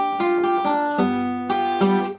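Guitar playing a short Mississippi blues lick, with a few picked notes over a ringing bass in a quick rhythm, close and clear with no talk.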